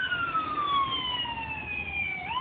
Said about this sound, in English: Pardon me for the sirens going by